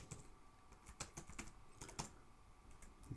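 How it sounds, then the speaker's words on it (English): Quiet, rapid typing on a computer keyboard while writing Java code, an irregular patter of key clicks with a few heavier strokes, no talking over it. "that is not good typing today"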